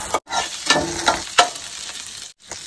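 Onions roasting and stirred in a hot pan for chili idly, crackling sizzle with several scraping stir strokes, close and fairly loud, with short pauses between bursts.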